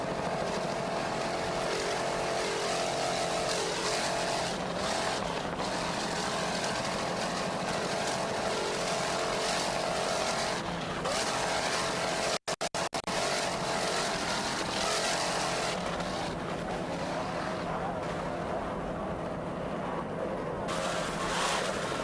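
Twin 2.5 EFI outboards power a 28-foot Skater offshore racing boat at the 1993 U.S. Offshore World Championships in Fort Lauderdale. Their dense, continuous roar sounds distant and wind-blown, with one brief cut midway.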